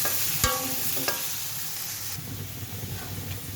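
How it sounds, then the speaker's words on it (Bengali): Potatoes sizzle as they fry in a pan for a chicken and potato curry, with two sharp clinks of a spatula stirring early on over a steady broadband hiss of hot oil; no talking. "আলুটা ভেজে নিই"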